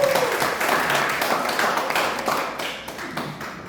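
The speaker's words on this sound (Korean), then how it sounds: "다시 한번 뜨거운 박수를 부탁드리겠습니다" An audience at a lecture on empathetic communication for healthy aging applauds the speaker, with a burst of clapping that starts full and gradually thins and fades toward the end.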